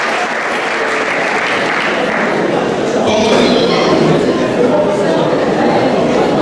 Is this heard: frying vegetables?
no